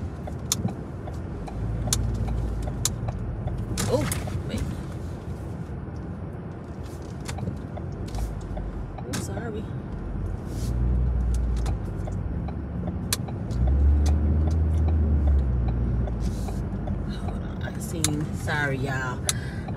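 A car being driven on a road, its engine and road rumble steady throughout with brief clicks and rattles inside the cabin and a louder low surge near the end; a voice talks intermittently over it.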